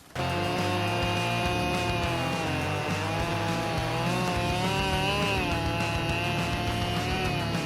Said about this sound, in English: The chainsaw blade meets the dry wood surface, then plunges inward with sudden force.